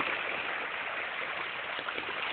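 A waterfall rushes in a steady, even hiss of falling water, faint and unbroken with no voices over it.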